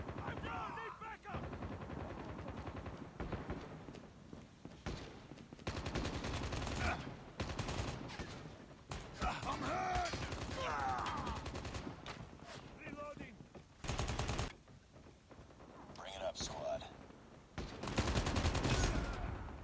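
Rapid bursts of gunfire from Call of Duty Mobile, loud and close, clustered in dense volleys with brief gaps and game voice lines mixed in.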